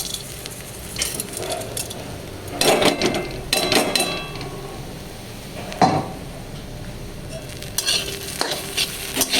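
Lentil dumplings (bori) go into a pan with papaya, mustard seeds and dried chilli, a low steady frying hiss broken by a few louder bursts of stirring and clatter against the pan, close, with no talking.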